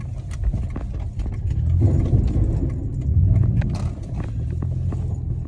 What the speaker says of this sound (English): Somebody's driving a Chevrolet SS that has Holden badges.